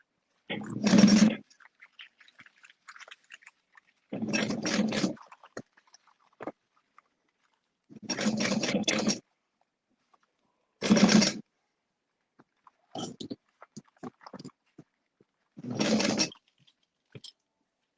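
A domestic sewing machine stitching a small fabric bug pack bag, running in six short bursts of rapid whirring stitches separated by quiet pauses with faint handling clicks.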